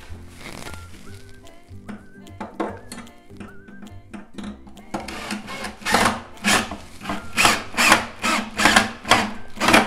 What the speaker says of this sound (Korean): 피스를 조여줍니다. 살짝.